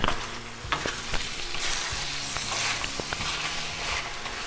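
Duck karahi in tomato gravy is stirred in a pan with steady frying sizzle and scraping spoon strokes, close and continuous without talk.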